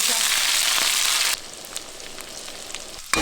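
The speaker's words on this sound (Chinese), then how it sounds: "把配料放入锅中煸香" Onion, ginger and seasonings stir-fry in a pot with a loud, bright sizzle that drops abruptly to a quieter, steady crackle with faint stirring clinks.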